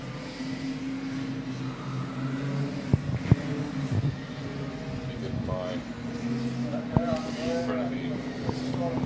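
Race cars at Killarney Raceway heading out of turn four, a steady engine drone with passing rises in pitch, heard under continuous commentary from an announcer.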